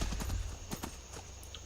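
Horse hooves clop along a road in Skyrim, a short run of quick, moderately close footfalls over a low background hum.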